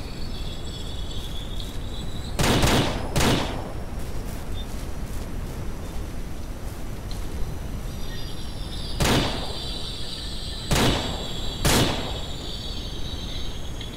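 Gunshots fire in the video game Ranch Simulator: about five sharp, loud blasts in two clusters, set against a constant chorus of crickets and insect ambience, with no talk.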